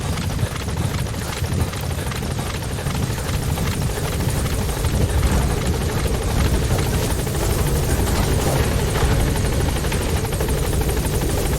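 Support helicopter from the Metal Gear Solid V game hovering close at a landing zone, a loud, steady rotor roar with rhythmic blade chop that fills the whole stretch without any speech.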